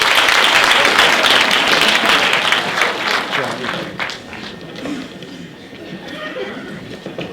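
Crowd applause for a panel at a STEM festival symposium, full dense clapping that gradually fades into scattered claps, murmuring and a few chuckles.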